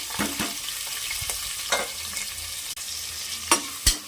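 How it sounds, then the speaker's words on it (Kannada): Onions fry with fennel seeds in a pan, a close low sizzle broken by several scraping spatula strokes and a few sharp knocks against the pan. "ಈರುಳ್ಳಿ ಚೆನ್ನಾಗಿ ಫ್ರೈ ಮಾಡ್ಕೊಳ್ಬೇಕು ನೋಡಿ ಈ ರೀತಿಯಾಗಿ ಚೆನ್ನಾಗಿ ಫ್ರೈ ಆಗಲಿ"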